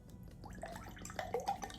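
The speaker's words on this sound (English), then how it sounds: "and let's pour it out." Sangaria white and yellow peach drink with nata de coco pouring from a bottle into a glass, a soft trickle with intermittent drips and splashes rising in pitch as it fills, fairly quiet.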